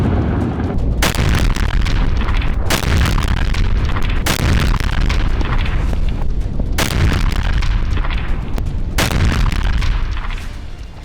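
Heavy bombing explosions in Gaza: loud, continuous roaring blasts with several sharp booms standing out, about five distinct impacts layered over a dense, sustained rumble.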